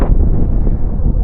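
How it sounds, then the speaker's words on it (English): Strong outdoor wind batters the microphone in a constant loud, low roaring buffet that fills the whole moment, with no voices. "It's windy."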